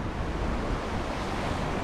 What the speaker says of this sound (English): you can obviously see the waves are really kicking up over that side